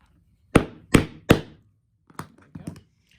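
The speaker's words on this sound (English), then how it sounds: "Give it a couple gentle taps. Start to drive it down in." A hammer strikes a rivet setter by hand, three firm close taps in quick succession followed by a few lighter, softer knocks, sharp wooden-sounding thunks alone with no talk.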